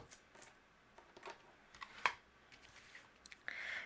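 A few soft, crisp snips of scissors trimming excess paper from a card sentiment, quiet and isolated, with small handling rustles between cuts.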